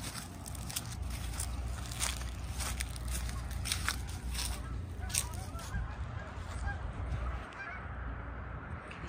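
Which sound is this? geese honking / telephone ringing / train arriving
geese honking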